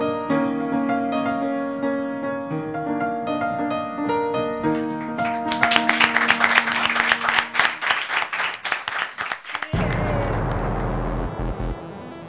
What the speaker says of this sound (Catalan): Fort aplaudiment per ella i per la Neus.